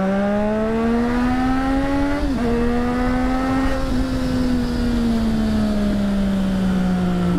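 A 600cc motorcycle accelerating at night, loud steady engine drone close to the rider that rises in pitch, dips briefly at a gear change, then climbs and slowly falls away, with no talking.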